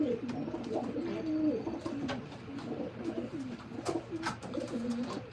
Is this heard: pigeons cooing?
yes